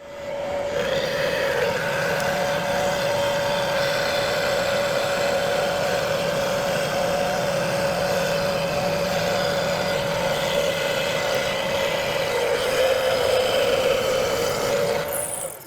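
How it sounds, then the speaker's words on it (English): A 3-flute titanium nitride coated solid carbide end mill cuts metal at 1600 RPM on a milling machine, a steady sustained tonal whine with a grinding undertone running evenly throughout, close and fairly loud. "this is a 3-flute titanium nitride coated solid carbide end mill."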